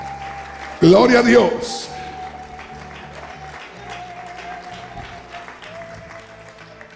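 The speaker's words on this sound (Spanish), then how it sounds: "Dale un aplauso al Señor con todo tu corazón." A church congregation claps loudly in a brief burst of applause that fades over a couple of seconds, with a voice speaking over it and continuing as it dies away.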